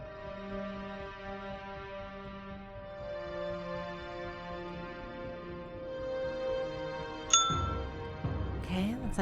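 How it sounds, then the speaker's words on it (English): A bell dings sharply and rings out in the Myst video game, ringing above a soft sustained tonal ambience of layered hums, then followed by a brief clatter. "Okay, looks like a bell."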